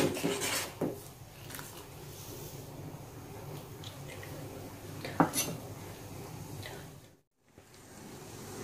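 Sambal tumpang stirred in a cooking pot, with soft scraping and occasional clinks of a utensil against the metal, close and fairly quiet, pausing briefly near the end.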